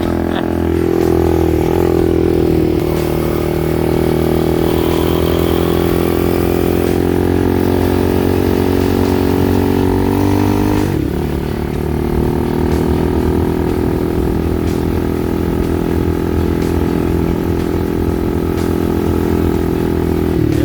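The small engine of a motorized mountain bike drones loud and steady throughout, dipping briefly in pitch about halfway through before settling back to a continuous buzzing run.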